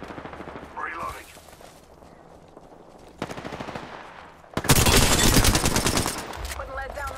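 Bursts of automatic gunfire in an Apex Legends match, a quieter rattle early on, then a loud sustained machine-gun stream near the end.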